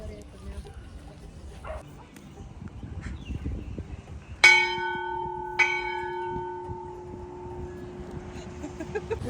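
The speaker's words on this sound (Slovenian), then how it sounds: "Ta je najbolj vesela, ker je pozvonila zvonček." A bell is struck twice in quick succession, each clear chime ringing on and slowly fading, with low background noise and someone talking around it.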